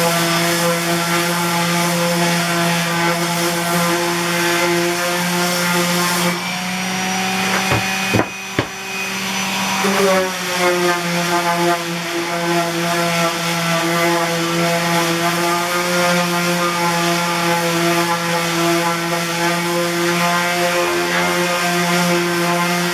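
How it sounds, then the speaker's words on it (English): Power sander working on pallet wood, a steady loud whining drone with stable harmonic tones that continues throughout, briefly interrupted by a few knocks and a shift in pitch midway before resuming. "Now we're going to go ahead and sand this real quick"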